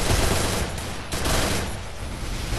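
Rapid sustained gunfire from the video game Free Fire, a dense continuous burst of automatic shots that stays loud throughout with only a brief dip in the middle.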